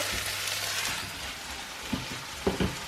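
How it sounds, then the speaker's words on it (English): Olive oil heating in a pan on a stove before fish goes in, giving a steady close sizzle and crackle with a few soft knocks and pops near the end, no voices. "So Rico's now going to add olive oil into the pan to get the fish ready. So we're going to heat the olive oil."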